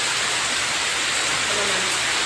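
Rain pours down in a loud, dense, constant hiss that fills the whole moment without a break.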